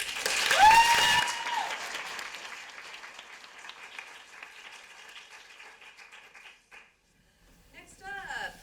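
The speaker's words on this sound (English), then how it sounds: "Let's give Cameron a round of applause." Audience applause after a play reading at a young playwrights' festival, starting in a loud burst and thinning to scattered claps, with a dog barking and whimpering near the start and voices talking later.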